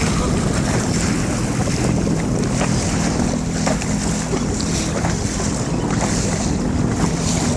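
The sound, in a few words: jet ski idling on water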